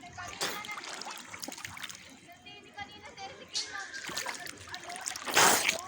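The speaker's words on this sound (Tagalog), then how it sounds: "Marami na naliligo dyan." Sea water splashes here and there at a beach in Anilao, Mabini, Batangas, amid chatter and children's voices, with a louder splash near the end.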